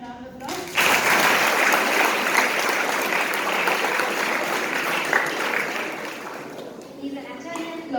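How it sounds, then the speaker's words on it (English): Audience applause for a judge being introduced at a boys' semi-final results event, a dense, steady roar of clapping that starts abruptly after a brief voice and continues strongly, with talk returning near the end. "Let me give him a round of applause"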